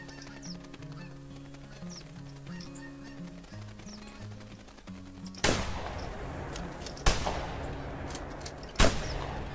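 Canada geese honk steadily in theHunter Classic, then three loud 12 gauge shotgun blasts boom out at irregular intervals, each with a long echoing tail, and no one speaks.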